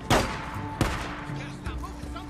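Gunshots in Days Gone: two sharp, loud reports close together near the start, then a fainter third crack, over a steady game background.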